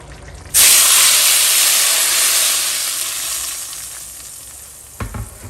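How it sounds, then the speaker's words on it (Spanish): Tomato and chili salsa with onion, garlic and cilantro boiling in a pot, a loud steady bubbling sizzle that starts abruptly and slowly fades, with a brief clatter near the end; no talking. "Aquí ya tenemos hirviendo la salsa."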